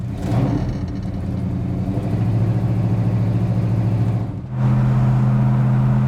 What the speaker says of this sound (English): Let's put it in first gear, see how it drives.